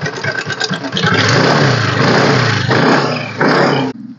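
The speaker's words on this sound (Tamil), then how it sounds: "செல்ஃப் ஸ்டார்ட் இன்ஜின் சூப்பராக இருக்குது" A 2013 second-hand motorbike's engine running after a self-start at a used bike market in Coimbatore, a loud close rumble that rises into a revving roar, holds, then cuts off abruptly near the end.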